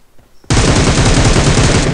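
A sudden loud burst of rapid gunshots from the PUBG Mobile game starts after a brief quiet moment and rattles on continuously to the end, close and unbroken, with no voices.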